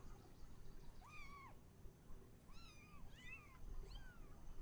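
A cat meows four times in The Haunting of Hill House, with drawn-out, rising-then-falling cries spaced a second or so apart, quiet over a soft, steady background hiss.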